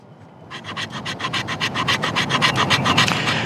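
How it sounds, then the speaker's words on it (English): A CS GI Tanto knife scrapes fatwood with the blade held flat, a rapid, even series of about sixteen close, loud rasping strokes that starts after a brief quiet moment and keeps going. "Now I'm scraping on a flat too,"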